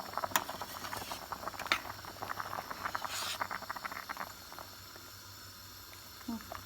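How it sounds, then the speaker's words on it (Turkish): A pot of kelle paça (sheep's head and trotter soup) bubbling steadily on a stove at close range, with irregular popping and patter that gradually settles into a quieter simmer. "Bu da kaynıyor güzel."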